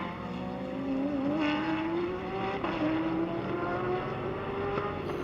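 A Porsche GT race car accelerating at Sonoma during a Blancpain GT World Challenge race, its engine note climbing steadily through a gear as it powers away, loud and fairly close amid faint trackside noise.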